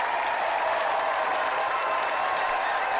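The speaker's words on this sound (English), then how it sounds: "Let's give another round of applause then for Craig and Kirsty Monroe." A live audience gives a dense, steady round of applause, close and fairly loud, with no break through the whole short stretch.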